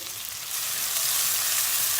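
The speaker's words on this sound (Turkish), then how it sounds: "Yağımız ısındı, tavamız ısındı. Hemen soğanı döküyoruz." Onions sizzle and crackle in hot oil in a pan, a dense steady hiss close by that swells after a moment.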